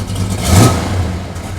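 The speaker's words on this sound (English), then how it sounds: "And there's the sound of that dual exhaust." A 1969 Dodge Charger 500 with a big-block 440 Mopar V8 and dual exhaust revs once, the deep, loud engine note swelling and easing back toward a rumbling idle, close by with no talk.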